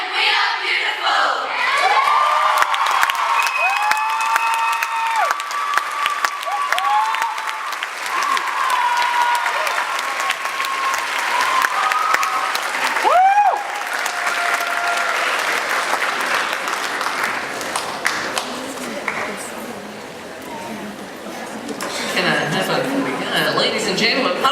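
Loud audience applause and cheering after a college group's performance, with whoops, shouts and excited voices over continuous clapping that dips briefly near the end before swelling again.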